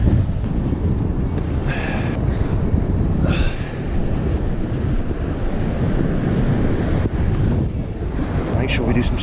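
Big, closely spaced ocean waves break and wash onto a beach with a beach bar nearby, a loud continuous roar of surf heavily buffeted by wind noise on the microphone.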